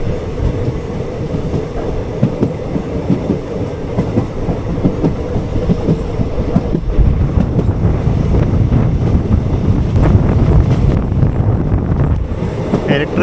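Express train on a non-electrified line, the summer special 06061, heard from on board as a steady loud rumble of wheels on rail with rhythmic clickety-clack, plus wind buffeting the microphone throughout.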